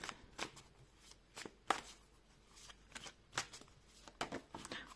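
Tarot cards shuffled close by in quick riffling bursts, with brief pauses between them and no one speaking.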